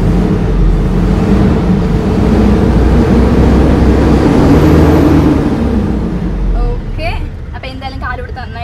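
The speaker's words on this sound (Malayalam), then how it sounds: "നിങ്ങൾക്ക് നമ്മുടെ എഞ്ചിന്റെ സൗണ്ടും കൂടെ ഒന്ന് കേൾപ്പിച്ചു തരാം" An Ashok Leyland 5525 trailer tipper truck's diesel engine runs steadily with a deep, loud low rumble, then eases slightly toward the end as brief voices and other noises appear.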